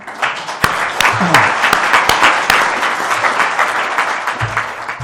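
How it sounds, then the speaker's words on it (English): An audience bursts into loud, sustained applause, dense clapping filling the space for several seconds with a few sharp individual claps standing out. "So just a round of applause for her."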